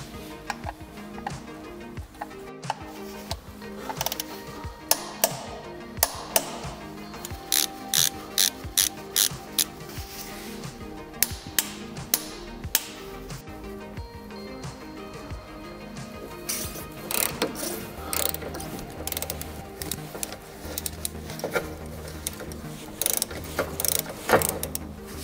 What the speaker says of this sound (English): we now put back in the drain plug screws. We tighten those with 43 Newton meters.